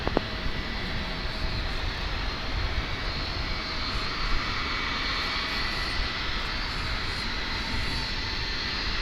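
American Airlines flight 431, a jet on its takeoff run from runway 18 left at DFW International Airport, a steady loud engine roar throughout.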